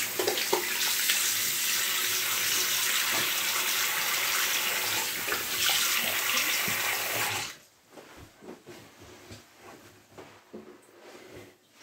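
Tap water runs steadily and loudly while a man rinses off after shaving his head with a 1949 Gillette Super Speed razor, then cuts off abruptly, leaving quieter splashes and drips.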